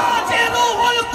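A crowd at a Karbala martyrs' remembrance gathering in Vijayawada roars a loud, unified chant of Allahu Akbar in answer to a takbir call, a dense swell of many voices.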